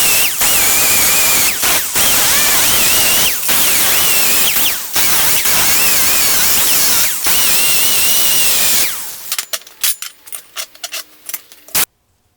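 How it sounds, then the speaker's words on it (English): Angle grinder working on tabs welded to a truck rear axle housing during an S10 rear end narrowing, a loud steady grinding broken by several short pauses, then sputtering off into sparse clicks and ticks near the end. "I'm gonna go ahead and cut these, or grind these tabs out of here right now."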